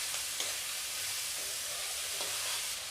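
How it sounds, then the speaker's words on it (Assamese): Pumpkin pieces fry in a pan over a raised gas flame, giving a soft, steady sizzle with a few faint stirring scrapes. "এতিয়া গেছৰ ফ্লেমটো বঢ়াই দিব আৰু কুমাৰখিনি এদৰে ভাজি ল'ব।"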